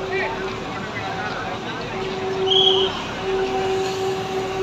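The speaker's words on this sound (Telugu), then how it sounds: "టెస్ట్ చేస్తున్నారు. ముందుకు వెనక్కి మూవ్ అవుతుంది ఇంజిన్." A railway engine shunts back and forth on a test track beside an underpass and flyover construction site in Anantapur, giving a steady mechanical hum with sustained tonal whine, moderately loud and continuous with slight swells.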